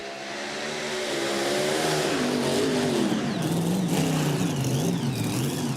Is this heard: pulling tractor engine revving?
yes